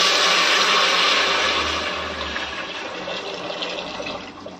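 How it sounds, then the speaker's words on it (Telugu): Water poured into a hot pot of tempered fenugreek and cumin while cooking fenugreek dal, a loud rushing, hissing splash that slowly fades as the pour eases. "ఇప్పుడు ఇందులోకి నీళ్ళు వేసుకోవాలండి"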